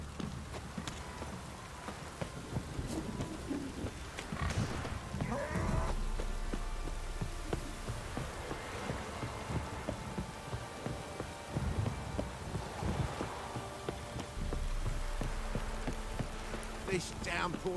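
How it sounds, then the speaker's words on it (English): Steady rain pours down on surfaces in a Witcher 3 game scene, a constant faint patter with occasional louder gusts and soft thumps, and no clear thunder. "This downpour's a bastard."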